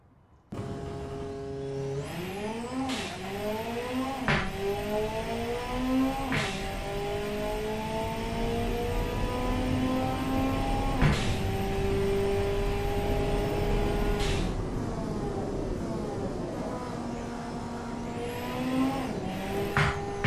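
A simulated 1984 rally car laps a test track, its engine revving hard through repeated upshifts and downshifts, pitch climbing and dropping in long sweeps with brief gear-change breaks, loud and close with no talk.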